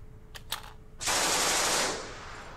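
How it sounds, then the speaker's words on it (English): Machine gun in a tank simulator video game firing at infantry: a few faint clicks, then one loud, dense burst of rapid fire lasting about a second before tailing off. "got that machine gun firing at the infantry"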